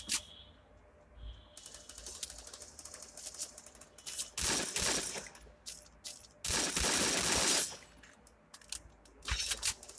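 Gunfire in the battle-royale shooter Free Fire, bursts of rapid shots in several loud volleys with quieter gaps between, no talking.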